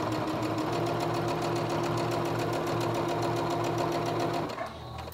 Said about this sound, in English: So now I'm going to sew at 1/4 inch inseam, again, straight seam, right around that curve and over the bridge of the nose.